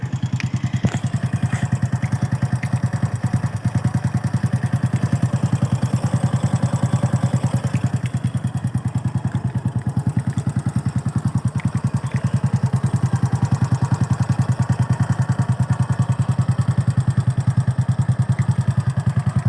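A Honda Wave 125S motorcycle with electric start idles steadily close by, its low, even engine thrum running throughout with no talk over it.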